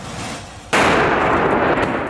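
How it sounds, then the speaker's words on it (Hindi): A Russian missile strike in Kramatorsk explodes a few metres from a reporter: a sudden, very loud blast about three-quarters of a second in, after quiet background, followed by a sustained roaring rumble that stays loud to the end. "रिपोर्टर से कुछ मीटर दूरी पर बड़ा धमाका हुआ।"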